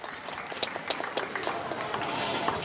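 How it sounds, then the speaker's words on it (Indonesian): Audience applause at a school student council (OSIS) chair and vice-chair candidate debate, honoring candidate pair number 1: a scattered, moderate clatter of many hands that holds steady and swells slightly at the end. "Mari kita beri tepuk tangan yang meriah untuk paslon nomor urut"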